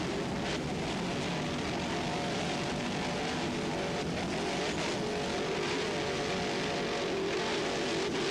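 Twin Mercury 2.5 EFI outboards on a 30-foot Skater offshore racing powerboat roar steadily and loudly at speed, a continuous close engine drone with no talk.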